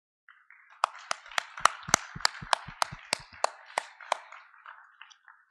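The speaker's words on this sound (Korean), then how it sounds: "우리 함께 인사하실 때 환영의 박수를 부탁을 드리겠습니다" A church congregation gives welcoming applause for a new pastor, about a dozen distinct, evenly spaced claps that build and then fade into softer patter, in a quiet room.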